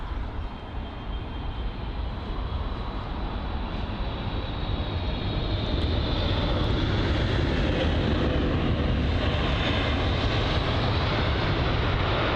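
American Airlines Boeing 777 touching down at London Heathrow: a loud, steady roar of jet engines that builds slightly and holds throughout, with no voices.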